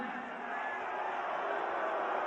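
Wrestling arena crowd at a Monday Night Raw show, a dense, steady roar of voices chanting together at a distance, with no clear breaks across the whole stretch.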